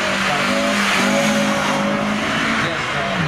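A Honda Civic rally car drives through a special stage at a Polish memorial rally event, its engine droning steadily with tire noise, while a commentator talks over it.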